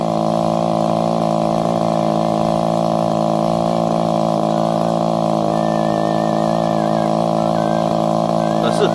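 A Robin ECO2EHR two-stroke water pump engine runs at a steady, loud, droning pitch throughout, with a constant hum that does not change, and a voice or music sits over it.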